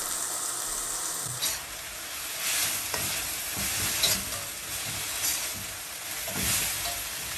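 Water hisses and sizzles in a hot pan of vegetables, a steady frying crackle broken by several short bursts of stirring and scraping.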